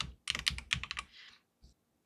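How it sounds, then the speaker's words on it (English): Several quick computer keyboard keystrokes in a close burst during Tinkercad design work, followed by a brief pause and one last isolated tap; no voices. "I'm going to do control D, use the arrow keys to nudge that down"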